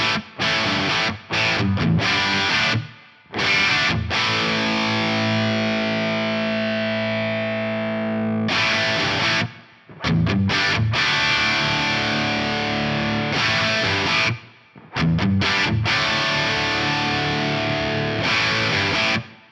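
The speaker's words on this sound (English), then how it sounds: "Let's hear the reverb when I turn it on" Electric guitar played through an IK Multimedia TONEX rig with reverb switched on, distorted chords and phrases ringing out in bursts separated by short silences, one long sustained chord decaying into a lingering reverb tail.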